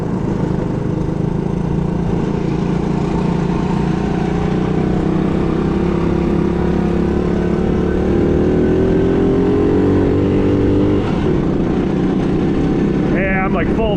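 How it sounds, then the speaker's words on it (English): A 1970 Honda ATC US90 three-wheeler held at full throttle in second gear gives a loud, steady, close engine drone, its pitch creeping slightly upward before it changes near the end, with a voice partly over it. "Yeah, I'm like full throttle right now in second gear."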